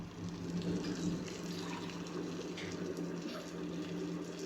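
Water is poured into measured rice for Dindigul Thalappakatti-style biryani, a faint, steady trickling and filling sound that runs continuously.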